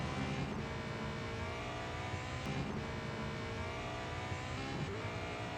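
Porsche 919 Hybrid LMP race car in Real Racing 3 on a night race at Le Mans, engine droning loud and steady throughout with a constant high whine and small surges, no talking.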